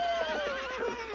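A horse whinnies in a French children's cartoon about a knights' tournament, a clear, fairly loud neigh with a wavering pitch that slides gently downward across a little over a second, heard alone.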